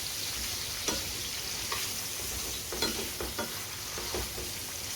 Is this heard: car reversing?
no